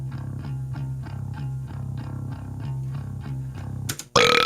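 A bass guitar through an amp simulator plays a steady repeating riff with a gritty amplified tone, ending in an abrupt burst of noise.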